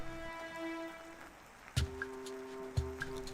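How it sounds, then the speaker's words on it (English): Raindrops fall into puddles outside, a few distinct plops and splashes landing one at a time against a faint, soft background hum. "The raindrops cartwheeled through the air and into the water."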